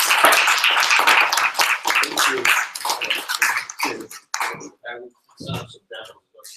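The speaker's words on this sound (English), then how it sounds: "Everyone give Mr. Jon Masters a round of applause." A small crowd at an entrepreneur social gives speaker Jon Masters applause, a short spell of clapping that quickly thins into scattered individual claps with gaps between them.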